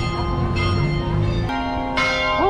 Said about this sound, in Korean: 지금 여러분께서는 세부에서 제일 오래된 성당의 종소리를 듣고 계십니다.